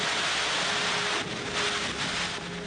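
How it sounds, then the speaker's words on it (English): Heavy rain pours down in a dense, loud, continuous roar that fills the whole space, steady and close with no voices. "The rain is just really, really strong."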